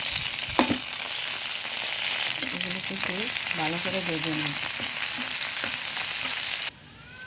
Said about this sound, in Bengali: আমার পেঁয়াজ রসুনগুলো ভাজা হয়ে গেছে